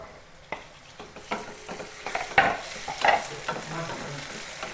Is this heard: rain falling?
no